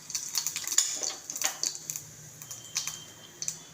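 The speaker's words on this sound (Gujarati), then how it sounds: "હવે તેલ ગરમ થઈ ગયું છે તો રાઈ નાખશું. રાઈ કકડી જાય એટલે જીરું નાખવાનું." Mustard seeds crackle and pop in hot oil in a pan as the tempering for a ripe banana curry begins, giving a close, rapid run of sharp, irregular ticks.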